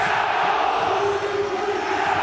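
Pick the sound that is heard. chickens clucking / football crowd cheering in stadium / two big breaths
football crowd cheering in stadium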